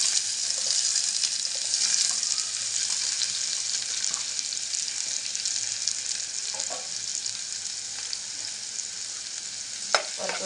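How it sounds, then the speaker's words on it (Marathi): Tomato and onion fry in a cumin tempering, a loud steady sizzle filling the scene while a spoon scrapes and stirs through the pan now and then, with one sharp clink near the end; no voices. "टोमॅटो कांदा टाकून घेऊया आपण फोडणीला"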